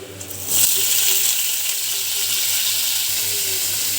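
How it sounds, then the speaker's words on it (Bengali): Capsicum and onion dropped into hot oil, with a sudden loud sizzle that rises after half a second and then holds as a steady hissing fry, a low hum beneath. "তেলটা গরম হয়ে গেছে, আমি কেটে রেখেছি একটু ক্যাপসিকাম আর একটু পেঁয়াজ, এটা দিয়ে দিচ্ছি।"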